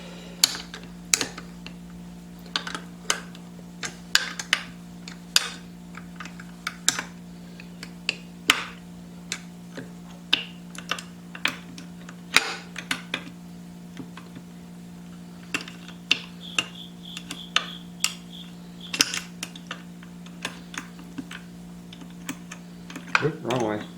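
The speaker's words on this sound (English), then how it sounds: "And then it's just tightening the bolts, which is a very slow process because there's no room to turn a wrench hardly at all." A wrench tightens bolts on a McCulloch 1-42 chainsaw in cramped space, giving sparse, sharp metallic clicks and ticks at an irregular slow pace over a steady low hum.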